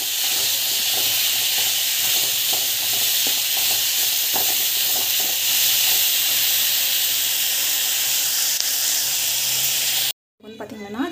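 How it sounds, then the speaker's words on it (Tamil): Mango and coconut chutney ingredients sauté in a hot pan, giving a loud, continuous hissing sizzle with faint stirring clicks, cutting off abruptly near the end. "பச்சை வாசம் போகிற வரைக்கும் நல்லா வதங்கணும்"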